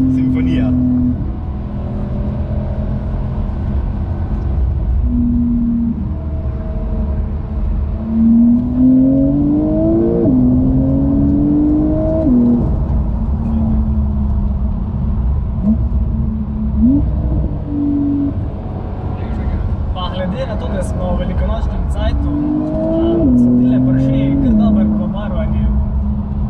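A 2019 Porsche 911 Carrera S engine, heard from inside the cabin, hums and rises through several rev climbs and gear changes, with a sharper burst of revving near the end, while someone talks over it.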